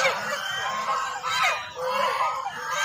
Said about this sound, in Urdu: اور یہ دیکھیں ماشاءاللہ بطخے ہی بطخے ہیں۔